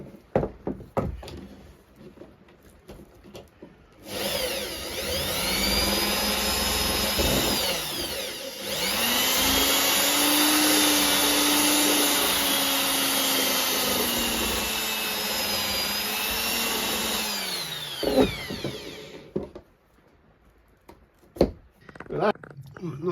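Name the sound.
drill with grinding stone bit enlarging a hole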